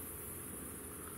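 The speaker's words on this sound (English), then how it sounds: "You can just hear the crickets chirping and the odd frog as well." Faint, continuous cricket chirping hums steadily in the distance by a river, an unbroken high trill on a quiet evening.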